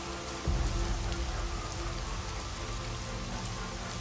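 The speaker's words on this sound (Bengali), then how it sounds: "ভীষণ বৃষ্টি আসছিল।" Heavy rain beats down in a constant close wash of drops, with a low rumbling swell near the start, used as a sound effect in a horror story.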